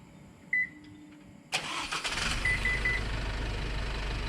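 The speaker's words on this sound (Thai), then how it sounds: "สตาร์ทรถผ่านรีโมท" After a brief chirp and a click, an Isuzu D-Max 1.9 pickup truck engine, started by remote, cranks and catches, then settles into a steady low idle that continues to the end.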